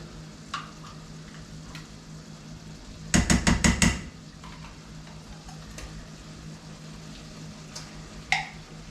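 A can of traditional refried beans is scraped and stirred into a sizzling pan at a rainy camp stove, with a quick burst of rapid metallic clanks from a spoon against the pan amid a soft continuous sizzle and scattered scraping clicks.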